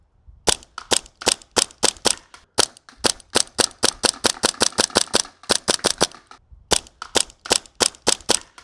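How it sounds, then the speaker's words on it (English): Rapid bursts of airsoft gunfire, sharp snappy cracks fired in quick strings and short volleys with brief pauses between, loud and close with no talking. "It's actually really fun airsoft gun to shoot."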